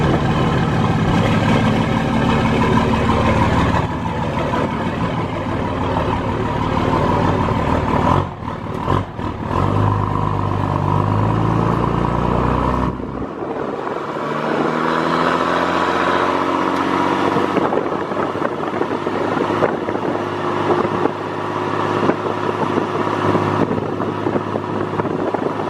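A 5.9 Cummins diesel truck engine with a built 48RE transmission roars steadily and loudly, pulling in first gear; the note dips briefly midway, then resumes with a rising, straining drone.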